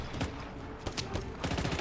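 A locked-on weapon firing in Just Cause 3, a rapid volley of loud shots with several sharp bursts over a dense, constant background of game noise.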